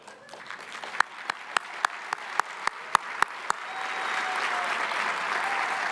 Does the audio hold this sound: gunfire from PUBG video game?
no